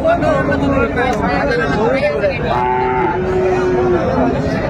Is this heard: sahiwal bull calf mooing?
yes